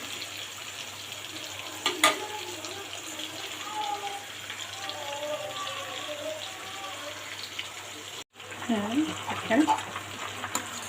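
Chicken pieces fry in a pan while being stirred, a steady close sizzle with occasional scraping and clinks, as someone talks over the cooking.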